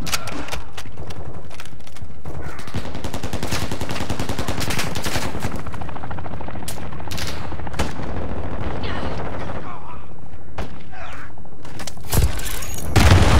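Rapid, loud gunfire from a weapon in Call of Duty Modern Warfare II multiplayer, with dense automatic bursts running almost continuously over a brief stretch of quieter moments.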